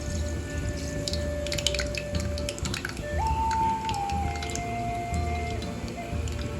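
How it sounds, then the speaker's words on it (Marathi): Cumin and mustard seeds sizzle in hot oil as tempering for pithla, a steady crackling hiss with scattered pops and a faint tonal hum in the background. "तेल गरम झालंय आपलं त्यात आपण टाकणार आहोत थोडेसे जिरे थोडीशी मोहरी"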